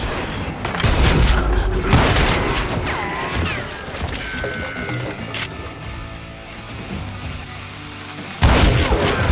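Ghostly dynamite blasts in the Call of Juarez Gunslinger video game, heavy booms with crackling debris under a game soundtrack, a loud burst near the start and another near the end.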